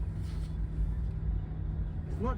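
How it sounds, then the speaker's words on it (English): Steady low road rumble and muffled outside traffic inside a rear-wheel-drive base Porsche Taycan electric car while driving, a constant soft drone beneath the cabin quiet, with a voice speaking. "You can still hear the traffic outside and the bit of the tire rumble"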